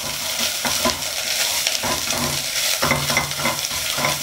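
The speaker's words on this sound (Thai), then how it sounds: "ผัดพริกแกงให้หอมนะครับ" Thai curry paste being stir-fried in a pan for a beef jungle curry with cumin leaves, a steady close sizzle with repeated scraping stirs of the spatula throughout, no talking.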